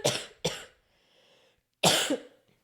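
Three harsh, loud coughs close to the mic from someone with a persistent cough, two in quick succession and a third after a short pause, with a faint hiss between them.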